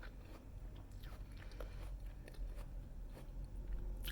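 Crunchy chewing of food with a tough skin and softer inside, close to the mouth, with repeated sharp bites and crackles at an irregular pace over a low background rumble.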